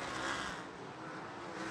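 Sprint cars racing around the high line of Eldora Speedway, a faint, steady roar of racing engines heard from a distance, a single passing drone with no voices audible.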